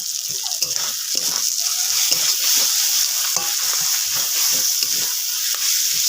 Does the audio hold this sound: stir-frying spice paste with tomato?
yes